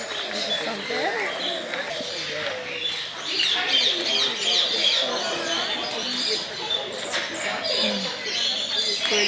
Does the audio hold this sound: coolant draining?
no